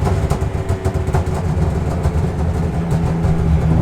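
A straight-piped BMW E36 runs with a loud, rough exhaust rumble that pulses unevenly close by, with no talk over it.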